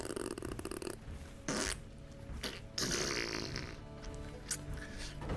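A person blows wet, sputtering fart noises with the mouth, a voice imitating flatulence in several drawn-out bursts of varying length, fairly close and loud.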